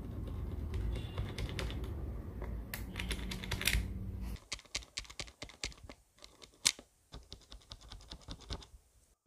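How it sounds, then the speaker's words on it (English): Mechanical keyboard typing up close: dense clacking at first, then sparser individual key presses with hollow rattly clicks from the stabilizers, some lubed and some unlubed, some louder strikes standing out. "The shift stabilizers here are lubed and the enter key ones are not lubed."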